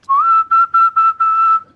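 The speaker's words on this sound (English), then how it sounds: "That really high whistle." A high, pure whistling overtone rises out of a sung major seventh chord, pulsing in five quick, evenly spaced bursts on one steady pitch, close and loud with no talking.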